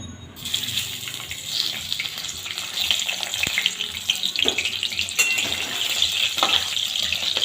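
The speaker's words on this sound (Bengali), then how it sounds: "তেলটা গরম হয়ে এসছে এবার আস্তে আস্তে মাছের মাথাগুলো ছেড়ে দিতে হবে" Fish heads frying in hot oil in a wok, a steady hissing sizzle with bursts of spitting and crackling from the pan, close and continuous with no voices.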